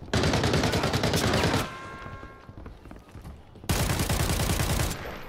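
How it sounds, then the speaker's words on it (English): Gunfire in the extraction shooter Arena Breakout: Infinite: loud, dense automatic bursts at close range, a quieter gap with scattered shots and thuds, then another sustained burst, with no talking. "the gunshots are so loud"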